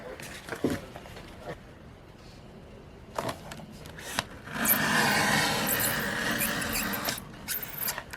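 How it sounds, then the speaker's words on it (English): Cardstock trimmed on a paper trimmer for a gable treat box, with a few light clicks and taps, then a longer scratchy sliding rasp as the blade runs along the paper, close by. "now we're going to trim it with the trimmer."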